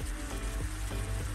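Chicken sizzles in a hot pan, a steady, soft crackling hiss with faint rhythmic pops, and no voices.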